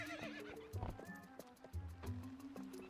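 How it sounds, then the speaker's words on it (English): A horse in Twilight Princess HD whinnies and its hooves clip-clop in a steady rhythm, both close and clear over game sounds with a faint voice in the background. "Get on the horse."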